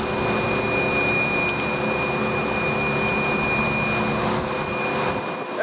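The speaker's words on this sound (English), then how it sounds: "I'm pulling a sample with the pump" A gas detector's internal pump draws an air sample in a roof rack room, giving a steady, continuous whirring drone with a thin high whine, close and unbroken throughout.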